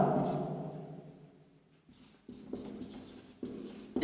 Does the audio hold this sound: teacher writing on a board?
yes